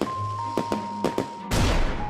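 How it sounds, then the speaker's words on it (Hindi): Firecrackers set off during a Diwali night celebration: four quick sharp cracks over a steady tone, then a louder, longer crackling burst close by. "सब मिलकर खुशी खुशी पटाखे फोड़ने लगे"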